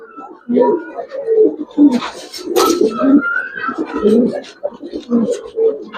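Silver Giribaz pigeons coo in soft, repeated rolling calls close by, with people talking over and between the cooing.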